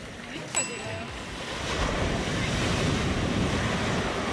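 Ocean surf rolls onto a beach on the Portuguese coast, a steady broad wash of breaking waves that swells louder after the first seconds, with wind buffeting the microphone and a brief whistle-like tone near the start.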